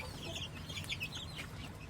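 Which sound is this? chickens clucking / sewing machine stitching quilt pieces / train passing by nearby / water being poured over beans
chickens clucking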